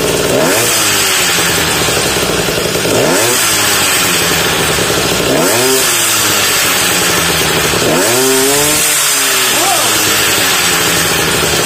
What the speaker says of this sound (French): on entend l'aspiration de la boîte à air. Comme une boîte à air de karting